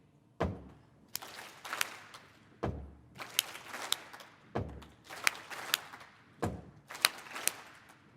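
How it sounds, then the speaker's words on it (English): A body-percussion pattern of a foot stamp followed by two hand claps, done during a Parkinson's educational symposium. It repeats about four times, each heavy thud followed by two sharp claps, fairly quiet and roomy. "There's a foot stamp, and then two claps."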